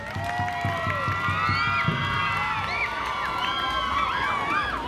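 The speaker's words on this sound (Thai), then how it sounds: "ขอรอยยิ้มหวานประสานเสียงปรบมือ" A crowd at a Phu Thai drum festival in Thailand gives mixed applause and cheering, with lively voices, children's shouts and scattered clapping sounding at moderate distance.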